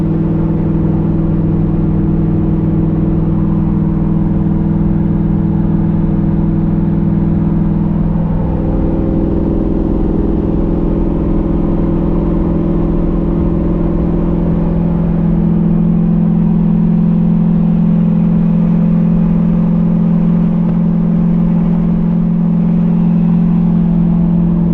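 A drag-race car fitted with race louvers cruises on a highway, its engine holding a loud, steady drone with a slight shift in pitch, and no voices are heard.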